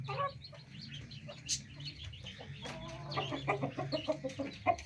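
A hen clucks softly and repeatedly while pecking at rice scattered for her, close by, with faint chirps and small scratching sounds around her and no talking.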